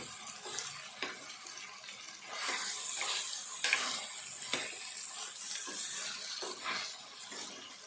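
Eggplant with ginger garlic paste fries in a pan, a soft continuous sizzle broken by several spatula scrapes and taps, fairly quiet and close.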